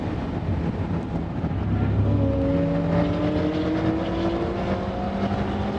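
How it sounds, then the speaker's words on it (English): A 4-liter Porsche flat-six race engine howls past at Laguna Seca, rising in pitch through steady acceleration over continuous wind and track noise, loud and sustained. "that 4-liter Porsche Flat 6 sounds so good"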